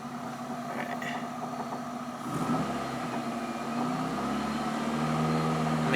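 A Mini's engine, newly running right after an ECU fix, idles with a steady low hum that rises into a held rev partway through, faint and without talk.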